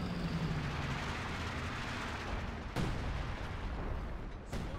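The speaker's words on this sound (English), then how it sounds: "Artillery's coming in" Artillery fire in Company of Heroes 2 rumbles through a dense battlefield din, with a couple of sharp cracking impacts standing out against the continuous roar.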